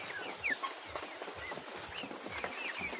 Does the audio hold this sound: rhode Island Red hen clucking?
yes